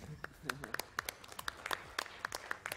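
Audience clapping at a speedrunning marathon event, scattered sharp claps in an irregular patter mixed with crowd chatter and talk over the top.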